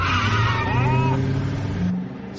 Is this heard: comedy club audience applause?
no